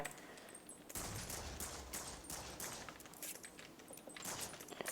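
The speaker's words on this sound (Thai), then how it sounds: "เดี๋ยวเอาปืนเล็กมายิงเลย" Bursts of small-gun fire in a Minecraft server game (MineZ mod), rapid rattling volleys packed close together and fairly loud, continuing without a break and with no talk over them.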